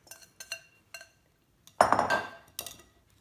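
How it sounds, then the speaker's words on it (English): A whisk combines cake batter in a bowl after dry ingredients go in, giving a few quick metallic clinks against the bowl and then a louder, busier burst of scraping and tapping, close and without talk. "I'm gonna start just kind of whisking and combining everything"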